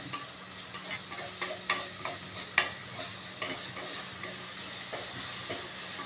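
Rice sizzles steadily in a hot pan while a utensil scrapes and stirs in repeated irregular strokes.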